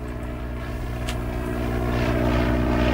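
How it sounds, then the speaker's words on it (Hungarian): A propeller-driven X-wing toy aircraft gives off a continuous buzzing drone with a steady whirring tone that grows slightly louder as it goes on, heard alone without talk. "Azért ez igen, ez a propelleres X-szárnyú."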